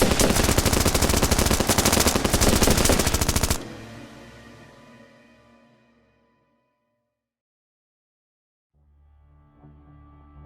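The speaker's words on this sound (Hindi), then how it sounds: "बिना किसी वार्निंग के उन्होंने अंधाधुंध फायरिंग ओपन कर दी" Heavy machine gun fire, a loud continuous burst of rapid shots used as an audio drama sound effect for an indiscriminate shooting on a bridge, stopping abruptly, then a fading rumble, silence, and a low returning hum.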